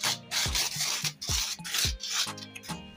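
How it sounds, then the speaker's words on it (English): Butter is rubbed by hand over pizza dough for an oxtail pizza, making soft rhythmic rubbing strokes, about a dozen quick swipes, close up and fairly quiet. "So I'm going to rub some butter on it like this."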